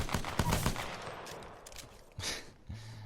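Gunfire from an R-301 rifle in Apex Legends, with a few bursts of shots early on and a couple of sharper reports later, fairly quiet and mixed with other game sounds.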